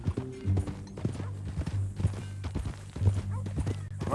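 Steady clip-clop of horse hooves at a walking pace in the video game Red Dead Redemption 2, moderately close, with faint background ambience and no talking.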